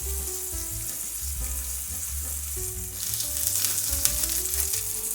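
A T-bone steak fries steadily in a pan, with a dense, continuous sizzle and crackle that swells slightly louder partway through, with no one talking.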